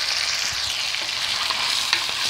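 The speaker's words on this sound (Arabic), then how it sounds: "هنا البطاطا مادا بيكم تحمروها مليح في المقلاة" Sliced potatoes and thinly cut onion fry in a pan, giving a steady, close, loud sizzle with faint crackles and small pops scattered through, and no voices.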